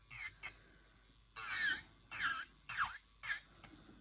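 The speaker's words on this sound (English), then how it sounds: "I will come in with my sanding band and get rid of those little bits" A high-pitched electric nail drill with a sanding band whines in several short bursts on acrylic nails, pitch dipping under load, with quiet pauses between.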